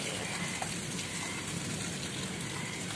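Steady rain falling in Swabi, a continuous dense hiss of drops with no breaks, fairly quiet and even throughout.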